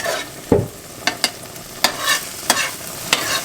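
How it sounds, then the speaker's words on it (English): Vegan scramble being fried and stirred in oil in a pan, with a steady sizzle under a series of sharp scraping clicks from the utensil against the pan, roughly every half second. "I basically just fry it. And I just mix it up. I'm trying to get that oil in there"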